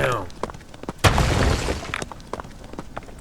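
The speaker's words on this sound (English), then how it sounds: "More explosions." Video game explosion in Conan Exiles, a single loud broadband boom with crackling debris about a second in, set among scattered clicks and a voice talking around it.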